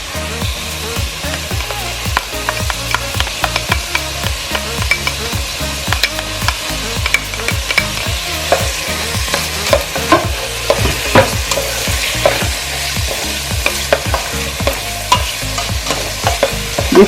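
Garlic sizzles in a frying pan while a utensil stirs and scrapes it in quick, repeated strokes, a steady crackling fry under the clatter.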